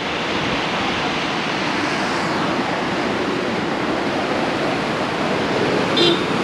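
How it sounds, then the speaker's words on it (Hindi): Fast water rushes through a dam in a steady, loud, broadband roar that continues unbroken, with a brief faint horn-like tone near the end. "ये देखो कितनी तेज पानी का बहाव है"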